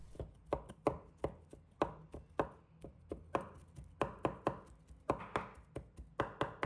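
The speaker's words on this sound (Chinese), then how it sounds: "再准备一把豆豉，把它切成末。" A knife chops fermented black beans (douchi) into mince on a board, a quick run of close, crisp, uneven taps repeating for several seconds.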